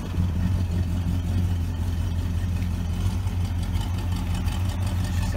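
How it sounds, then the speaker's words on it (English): A 1970 Vista Cruiser's untuned engine idles cold on a snowy day, with a low, steady exhaust rumble, constant and close, with no talking over it. "She starts. We got a little exhaust note too."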